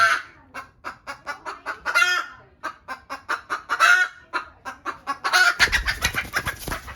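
A hen clucks steadily in quick, rhythmic bursts, loud and close, with a rougher rustling noise joining near the end.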